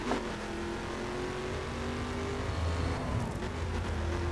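A car in the racing game The Crew drives with a loud, continuous engine drone that shifts pitch with the throttle, steady and close throughout, with a brief rumble of contact near the end.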